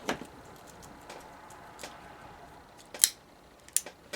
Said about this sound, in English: Just trimming some frays off.